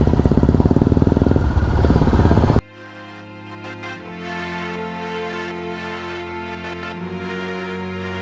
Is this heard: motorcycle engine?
yes